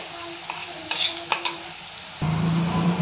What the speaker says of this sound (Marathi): मिरची छान तेलात भाजली गेली पाहिजे